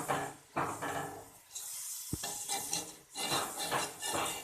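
Water poured into besan gravy in a cooking pot: quiet splashing and stirring with sizzling, a scrape of a spoon on the pot and a brief knock, close by with no talk.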